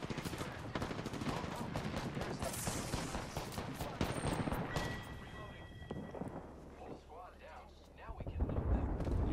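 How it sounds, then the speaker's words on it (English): Artillery barrage in Apex Legends, a dense continuous rattle of booming impacts and gunfire over several seconds, loud and chaotic, with voices talking over the din. "Body on my mark, firing for effect."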